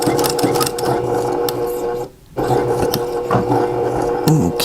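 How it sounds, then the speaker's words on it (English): A sewing machine stitching fabric for a coupon wallet along a selvage edge, a loud, close, steady mechanical whir with a brief pause midway before the stitching resumes. "So we're almost done sewing this."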